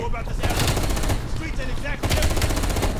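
M1911 pistol fire in Call of Duty Black Ops Cold War, heard as loud, dense, continuous shooting in a chaotic game firefight, with voices faintly beneath it.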